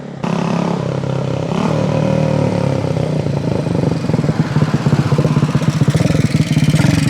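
A rebuilt 1968 Harley-Davidson 250 Sprint resto-mod runs close by, its small single-cylinder engine idling steadily and then settling into a rapid, crisp pulsing rhythm. There is no talk over it.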